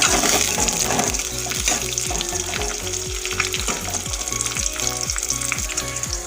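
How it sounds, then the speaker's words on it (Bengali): Two cracked eggs fry in hot mustard oil in a wok, a loud bright continuous sizzle with a rhythmic pulsing pattern of clatter running through it. "এবার ডিমগুলোকে আমি ফাটিয়ে ভেজে নেব।"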